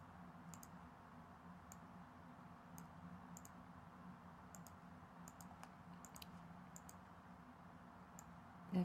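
Computer mouse clicks while working in Cricut Design Space, a string of faint, sharp, isolated clicks spread at irregular intervals over a steady low hum, with no one talking.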